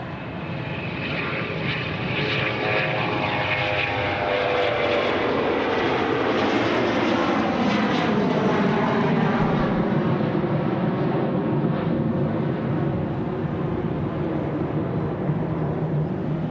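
An airliner landing on a runway at Sydney Airport produces a loud, sustained jet roar. Descending engine tones sweep down through the noise, and the sound stays steady and close throughout with no talk.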